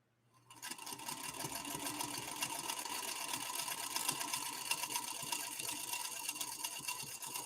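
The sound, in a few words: sewing machine stitching fabric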